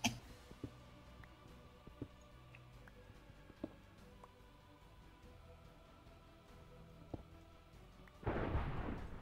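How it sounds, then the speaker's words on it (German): Thunder rolls during a storm in Minecraft: faint scattered clicks and distant rumbling give way to a loud, broad crash of thunder near the end. "Gewitter ist selten in Minecraft."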